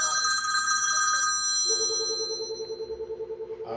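A telephone rings loudly right beside the microphone with bright repeating electronic tones, shifting into a pulsing ring near the end, with faint voices in the background.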